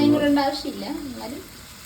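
A pan of Kerala fish curry with coconut masala sizzles and scrapes as it is stirred, close and fairly loud, with a brief voiced murmur over the first second.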